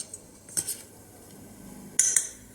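A metal spoon clinks and scrapes against a bowl as paneer is mixed with black pepper powder, in two short bursts of close, fairly quiet metallic taps, with no talking.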